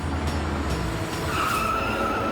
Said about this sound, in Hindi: गाड़ी आने की आवाज आ रही है